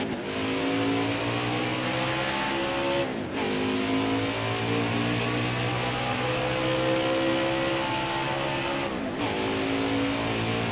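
NASCAR Craftsman Truck Series race trucks at Watkins Glen, a loud continuous engine roar with layered revving pitches that rise and fall as trucks pass, with brief dips where gears shift, sustained throughout.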